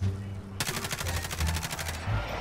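Rapid automatic gunfire in the video game Call of Duty: Warzone, one loud sustained burst of evenly spaced shots that starts abruptly and cuts off after about a second and a half.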